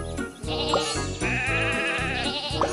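Sheep bleat over a bright, bouncy music loop in Thomas and Friends: Magical Tracks, the calls coming in a couple of short bursts close up.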